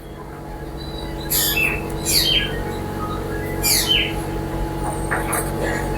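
Birds call outdoors in a few bright, repeated bursts, a koel and crows among them, standing out over a steady background hum at moderate distance.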